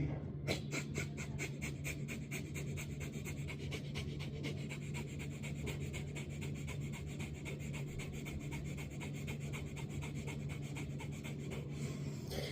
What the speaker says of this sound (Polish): skończcie wszystko oddechem ognia w podporze przodem